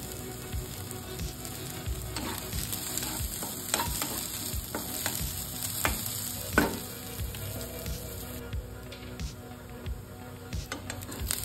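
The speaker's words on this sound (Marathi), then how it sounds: "कांदा भाजून घेऊयात" Onion sizzles and crackles as it roasts in hot oil in a pan, with steady frying hiss and occasional stirring scrapes, close and moderately quiet with no talking.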